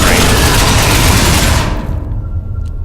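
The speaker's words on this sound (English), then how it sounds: "Give me some burst fire" Burst fire in Space Hulk Ascension, a loud, dense roar of rapid gunshots that blends into a continuous wall of sound for about a second and a half, then cuts off into a lingering low rumble.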